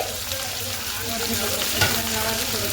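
Capsicum and green chillies sizzle loudly in a hot pan for chilli chicken, a steady close crackle with a brief stirring scrape partway through.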